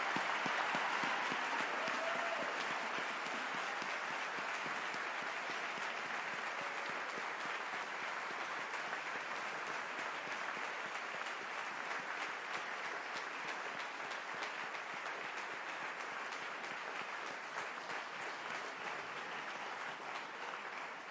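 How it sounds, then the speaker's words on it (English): A graduation ceremony audience for the Faculties of Architecture & Planning, Dentistry, Health, Medicine & Grad Studies applauds steadily, a dense, even wash of many hands clapping that holds for about twenty seconds without pause. "Can I ask for a round of applause"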